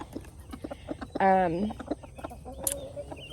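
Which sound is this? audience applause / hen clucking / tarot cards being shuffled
hen clucking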